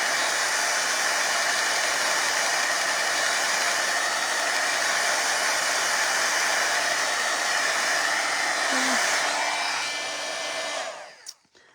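A hair dryer blows steadily and loudly for about eleven seconds while drying acrylic paint on a bokeh-style background, with its broad airy roar continuing unbroken before it switches off and winds down at the end.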